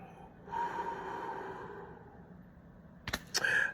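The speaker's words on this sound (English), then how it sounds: "And exhale." A long, steady breath out at the end of a breathing exercise, close and soft, followed by a couple of sharper breathy sounds as it finishes.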